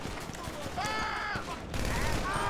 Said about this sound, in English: They're shooting at each other